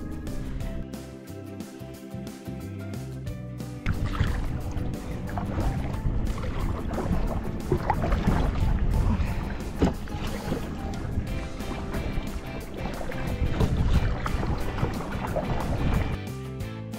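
A kayak paddles across the Curonian Lagoon near Ventė Cape on a windy day. Steady water sloshing and splashing are mixed with loud wind rumble on the microphone, continuous and fairly close.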